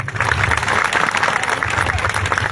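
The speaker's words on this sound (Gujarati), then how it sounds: "પેલા એક જેતપર ગામને જોરદાર તાળીઓ વધાવી" Steady, dense applause from a large crowd of farmers at a village protest rally in Jetpar, Morbi, sustained and loud for the whole stretch without a break.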